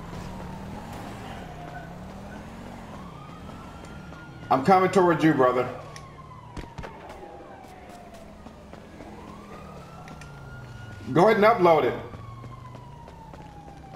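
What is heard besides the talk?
police car sirens in the video game Grand Theft Auto V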